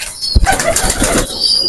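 A pigeon at a high-flying pigeon farm in Khulna flaps its wings in a quick, close flurry, with a sharp thump at the start and fluttering rustle continuing for under two seconds.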